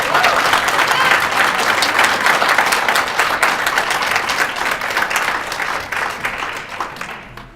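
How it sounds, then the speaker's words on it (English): Audience at a public school board of education study session claps steadily, a dense broadband applause that holds strong for several seconds before slowly tapering off. "I guess I want to say to folks clapping, thank you"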